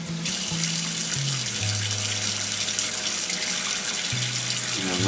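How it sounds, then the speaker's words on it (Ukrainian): Water runs steadily from a faucet into a clogged bathroom washbasin that is not draining, a continuous close hiss and splash with low gurgling tones. "Щось умивальник не змиває, не сходить вода."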